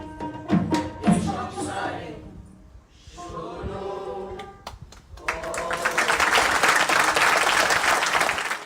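Theatre audience at a drama festival in Bhopal applauding at the end of a play scene: scattered claps swelling into dense, loud, sustained applause from a full hall, with some crowd murmur mixed in.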